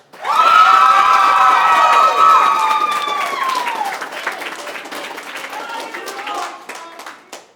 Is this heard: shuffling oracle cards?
no